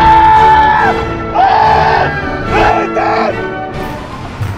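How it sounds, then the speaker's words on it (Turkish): Shrieks and whooping yells from riders on an amusement park ride, several loud sustained screams in bursts over a crowd-noise background. "Oo, başkanın çığlıkları duyuluyor bir yerden ama."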